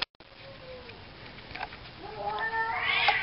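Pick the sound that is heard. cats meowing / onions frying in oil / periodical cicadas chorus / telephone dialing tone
cats meowing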